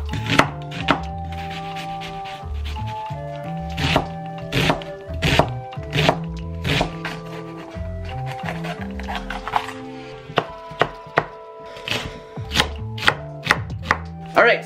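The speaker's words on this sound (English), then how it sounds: "I still have to chop up the onion and the red pepper" A knife chops onion and red pepper on a cutting board, sharp repeated thuds at an uneven pace, close and clear, with faint background music.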